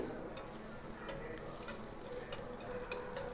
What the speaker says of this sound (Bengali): আমি এই যে ফ্রাই প্যানটাতে দিয়ে দিচ্ছি এক চামচ মতো বাটার এবার এই বাটারটা যখন গলে যাবে